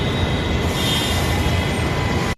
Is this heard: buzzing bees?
no